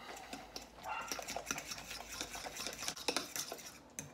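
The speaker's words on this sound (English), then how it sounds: "And now we're going to mix it up." A salmon patty mixture with hot sauce is stirred in a bowl, giving soft irregular scraping and clinking from a utensil, quiet and close, with no talking.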